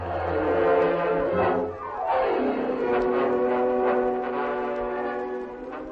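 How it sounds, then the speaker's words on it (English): An approaching train's loud, sustained horn blares close by, its pitch sliding downward before holding a steady chord. "There's the train, Sam."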